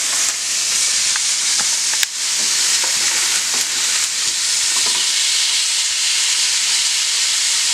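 Skin-on branzino crisping in a frying pan, a steady loud hiss and sizzle running throughout with a few small pops and spits, no talking.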